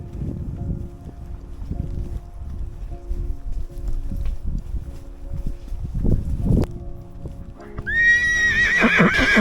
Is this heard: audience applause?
no